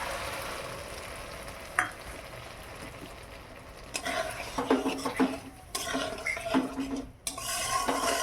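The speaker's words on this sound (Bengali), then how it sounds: "মশলাটা একটু হালকা করে ভেজে নেই" Ground poppy seed and mustard paste frying in a pan, a soft sizzle broken by scraping and stirring of a utensil against the pan, with louder clattering bursts in the second half.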